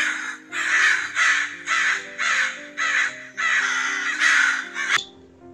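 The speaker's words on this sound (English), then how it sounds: "The harsh cooing of a crow" A crow caws loudly and close, repeating harsh calls in a steady series of about eight, with a sharp click at the end and no speech.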